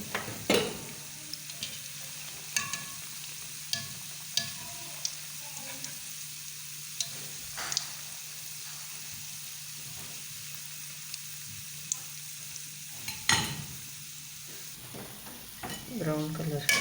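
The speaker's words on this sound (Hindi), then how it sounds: "ऑयल हमारा गर्म हो चुका है, ऑयल गर्म हो गया है। इसके अंदर अब हम डालते जाएंगे और इनको हिलाते जाएंगे" Gulab jamun frying in hot oil and stirred in a pan, a soft continuous sizzle broken by faint spoon taps and scrapes at irregular intervals, fairly quiet, with no voices.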